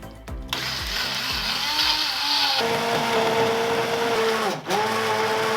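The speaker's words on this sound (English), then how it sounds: "I'm just going to blend it using a stick blender" A stick blender whirs loudly and continuously through soup, its pitch shifting as the load changes, with a brief dip near the end.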